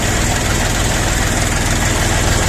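A small KM385 diesel engine on a mini tractor idles steadily and loudly up close at about 800 rpm, with a constant rumbling, knocking throb and no pauses.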